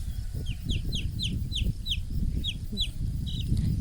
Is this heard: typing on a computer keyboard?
no